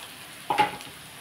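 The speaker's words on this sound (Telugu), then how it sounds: "బంగాళదుంప వేగిపోయింది. బీట్రూట్ కూడా అన్నీ కూడా కొంచెంసేపు వేగుతామండి." Potato, beetroot and carrot frying in a pan: a soft, steady sizzle with a brief, louder scrape and stir in the middle, close by and with no speech.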